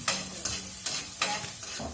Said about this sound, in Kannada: ಇವಾಗ ಇದಕ್ಕೆ ಕಟ್ ಮಾಡಿದ ಈರುಳ್ಳಿಯನ್ನು ಹಾಕೋಣ ಬನ್ನಿ. ಈಗ ಅದನ್ನ ಸ್ವಲ್ಪ ಹೀಗೆ ಮಿಕ್ಸ್ ಮಾಡಬೇಕು.